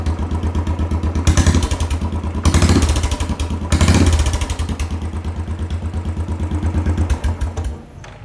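A Royal Enfield Classic 500 custom bobber motorcycle with a fuel-injected engine idles with a thumping beat, then revs three times in short throttle blips before settling back and cutting off near the end, loud and close.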